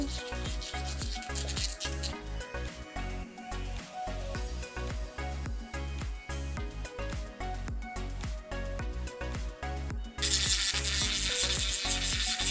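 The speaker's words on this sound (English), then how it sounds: "You see how this drill just works really smoothly?" A small electric nail drill whirs against acrylic nails during an infill, with a steady, gritty sanding buzz, pulsing in short passes and growing brighter near the end.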